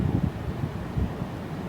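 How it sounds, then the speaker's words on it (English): Gusty wind rumbling and buffeting a microphone in a cemetery, low and uneven with a few stronger gusts, with no voices. "It's windy."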